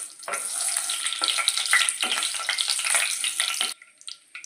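Whole spices (cinnamon sticks, cloves and a cardamom pod) frying in hot oil in a pan crackle and hiss in a bright, close sizzle that cuts off abruptly near the end, leaving faint pops.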